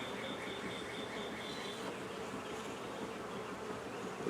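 Close, unbroken buzzing from honey bees at an open hive with a hatched queen, a dense, even insect drone throughout.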